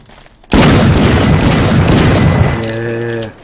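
Sustained video game gunfire from a multiplayer co-op shootout, a loud dense burst of rapid overlapping shots that starts abruptly and continues for about two seconds, then gives way to a tonal humming sound.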